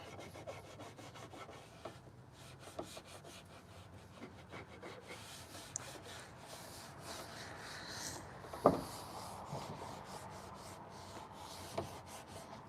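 Finish gets rubbed by hand into the top of an edge-grain wooden coffee table, a quiet, continuous rhythmic rubbing with occasional small knocks and scuffs, faint and close.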